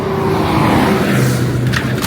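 Road and engine noise fill the cabin of a car picking up a hitchhiker on the road from Sana to Almaty in Kazakhstan, a loud steady rumble throughout.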